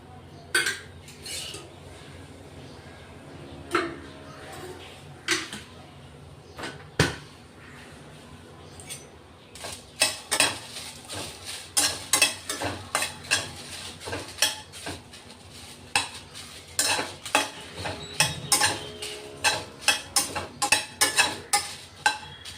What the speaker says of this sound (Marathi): मिरच्या, थोड्या मिरच्याही परतून घेणार आहेत आपण